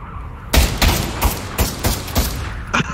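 Rapid gunshots from the Pavlov VR shooter, around seven sharp loud blasts fired in a quick irregular burst, close and booming with short decays between them, no talking.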